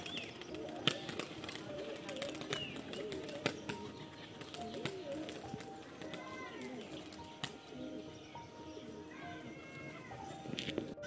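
Pigeons at a family home coo softly and flap their wings in quick bursts, heard faintly in a quiet setting with occasional voices in the background.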